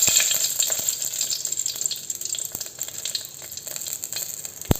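Two bay leaves and cinnamon sizzle in a ladle of hot oil in a heated pot for a prawn biryani tempering: a steady, close crackling hiss with occasional sharp pops and no voices.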